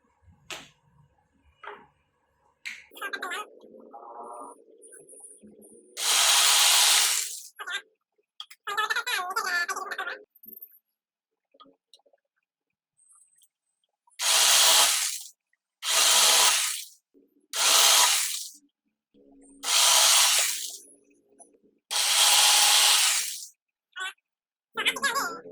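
A power drill whirs in several short, loud bursts while drilling holes in wood, separated by brief pauses and someone speaking between them.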